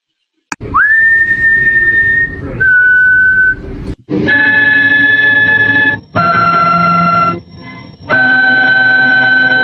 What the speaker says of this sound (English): This is me a year ago whistling to